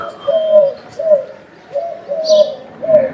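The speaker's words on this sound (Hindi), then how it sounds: "कबूतर की आवाज़ है" Soft, rhythmic pigeon cooing repeats in low phrases, five or so calls in steady succession, close by with faint outdoor ambience.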